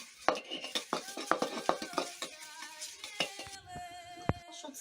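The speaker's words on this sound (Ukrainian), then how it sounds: "Розтираємо наш часничок макіторки" Garlic is ground in a clay makitra bowl, giving a series of sharp scraping and knocking strokes in uneven rhythm, close and fairly loud, with a ringing clay tap near the end.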